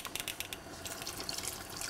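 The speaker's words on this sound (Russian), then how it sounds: "но я добавляю воду" Water pours into a pot of thick pea soup with sausages, brisket and smoked meats to thin it, a steady close splashing rush over the whole stretch with no talk.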